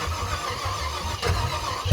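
A Ford Galaxie 500 engine on a cold start cranks in a low, uneven churn, then rises into a louder rough catch near the end. The sound is close, with no talk.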